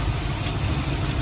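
A Hemi V8 engine idles while cold with a ticking noise from a broken exhaust manifold, a loud, steady close-up rumble with a busy rapid texture throughout.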